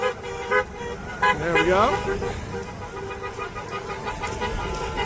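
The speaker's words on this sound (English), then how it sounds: "People are driving around honking at you guys." Passing cars honking their horns at a protest line, with short toots and a longer blast over road traffic. A voice speaks briefly.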